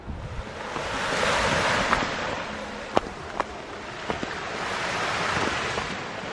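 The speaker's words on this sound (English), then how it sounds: "The waves are crashing against the sand" Surf washing onto the sand at a beach on the Malta coast, a steady broad roar of breaking waves with wind buffeting the microphone and a few sharp knocks, no voices.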